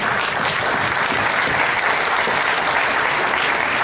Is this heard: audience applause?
yes